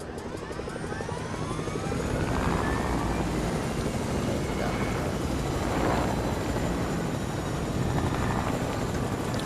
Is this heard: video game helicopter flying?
yes